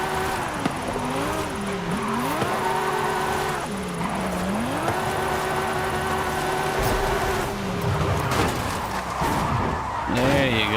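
A Mercedes-Benz drifting in Forza Horizon 5: a loud, continuous engine drone rises and falls with throttle pumping, mixed with long tire squeals and skidding, ending in a sharper rev.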